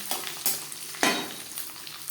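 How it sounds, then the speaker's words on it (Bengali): Grated coconut fries in a pan for a vegetarian ghugni, producing a soft crackling sizzle with several scraping strokes of stirring, close and moderately quiet. "নারকেল ভাজা হয়ে গেছে"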